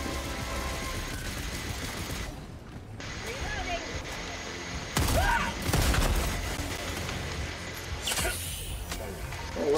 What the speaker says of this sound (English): these incendiary rounds come in handy